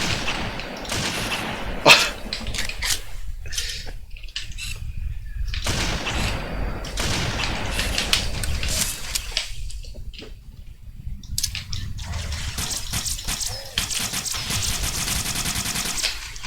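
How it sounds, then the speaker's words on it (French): Heavy gunfire from homing-bullet weapons in the Halo video game, dense bursts of rapid shots and blasts filling the scene almost continuously, with one sharp louder hit early and brief lulls between volleys. "Des balles à tête chercheuse."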